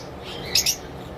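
A lovebird gives a single brief, high chirp, close and clear against a quiet background.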